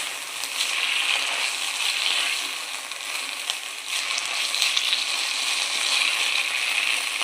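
Fresh fenugreek leaves (methi) for a simple home-style bhaji are stirred and fried in a pan, giving a steady, close hiss of sizzling with soft scraping as they are mixed.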